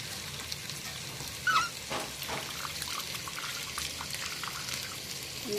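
Flattened rice (poha) being rinsed with water for potato poha, with water pouring and trickling close by, a short splash partway through, then soft wet sloshing that carries on steadily.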